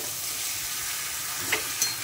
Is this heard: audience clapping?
no